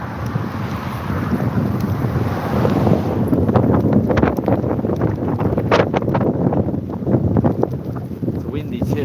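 Strong wind buffeting the microphone while biking through a coastal thunderstorm with rain near the water, a continuous loud rumbling roar that gusts harder partway through.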